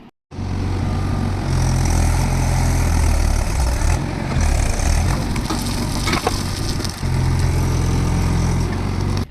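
A tractor stuck in the ground keeps its engine running, a loud, steady low diesel drone with a slight dip partway through, continuing without a break and with no voices.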